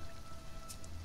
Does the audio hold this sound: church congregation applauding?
no